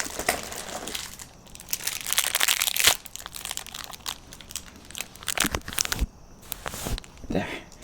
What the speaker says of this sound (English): I'm just gonna tape it off with.